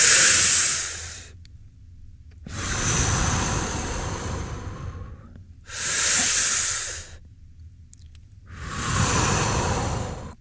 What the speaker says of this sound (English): Now breathe deeply.